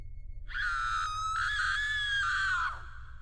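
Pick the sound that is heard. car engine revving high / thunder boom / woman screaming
woman screaming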